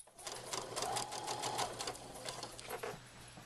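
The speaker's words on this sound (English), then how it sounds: "Sew all the way to the corner." Sewing machine stitching a half-inch seam on a throw pillow, a steady close rapid mechanical rattle of needle strokes that briefly slows and then continues.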